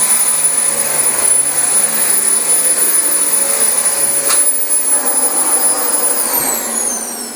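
A Dyson DC25 upright vacuum cleaner runs over brand-new carpet with a loud, steady whine and high tonal hum that holds throughout, dipping slightly at the end, with no talking.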